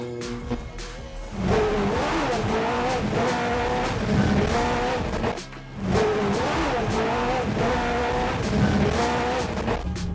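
A mini truck's engine revs hard and pulls away on desert sand dunes, with tires squealing and the roar climbing, dipping briefly, then surging again close by.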